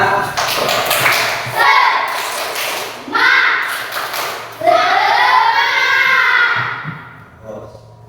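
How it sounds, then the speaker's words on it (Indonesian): Schoolchildren in an elementary classroom clap together in a rhythmic spirit-clap pattern, the claps loud and close and mixed with their chanting voices in short bursts. "tepuk semangat."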